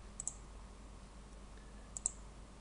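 Two faint, crisp double clicks of a computer mouse in a quiet room, one pair early and another about two seconds later, over low background hum.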